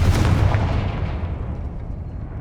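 A Confringo fire spell blast in the game Hogwarts Legacy, a single heavy booming impact that rolls and decays over about two seconds, loud and alone without speech.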